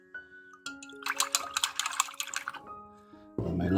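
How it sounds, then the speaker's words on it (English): Paintbrush swished and tapped in a cup of water while painting a miniature model, a few seconds of close, soft clinking and splashing with faint tonal rings, then a louder burst of water noise at the end. "rinse my brush"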